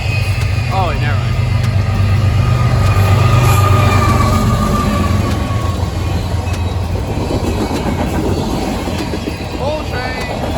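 A train rumbles loudly past at close range, a heavy continuous roar of rolling wagons with rhythmic wheel clatter and occasional high squeals, while people talk nearby.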